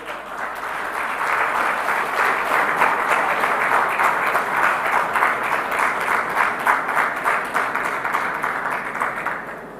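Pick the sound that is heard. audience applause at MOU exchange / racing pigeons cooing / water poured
audience applause at MOU exchange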